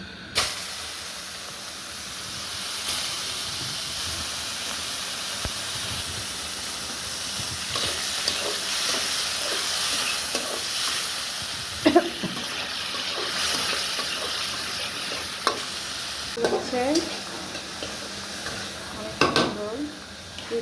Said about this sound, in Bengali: এই যে আমি কিছু অল্প অল্প মাংস চর্বি আছে খিচুড়িতে দেওয়ার জন্য এটা আমি এখন ভাজবো তেলে